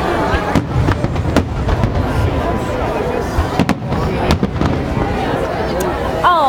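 Fourth of July fireworks over foggy San Francisco, with sharp cracks and booms at irregular intervals over a continuous rumble and crowd noise, with whistling shells near the end and people talking throughout.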